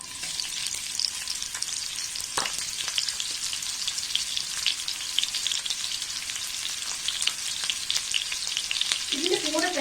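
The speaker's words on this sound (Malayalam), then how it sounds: "ഓയിൽ ഒന്ന് ചൂടായി വരുമ്പോഴേക്കും ഇതിലേക്ക് നമ്മൾ നീളത്തിൽ കട്ട് ചെയ്ത് വെച്ചേക്കുന്ന ഒണിയൻ ചേർത്ത് കൊടുക്കാം" Sliced onion and capsicum sizzle steadily in hot oil in a pan, with dense frying crackle throughout, a few louder stirring scrapes, and a faint clink near the end.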